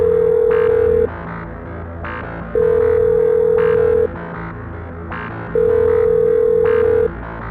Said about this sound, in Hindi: राजू के बारे में पता करने के लिए उसने फिर से कॉल लगाया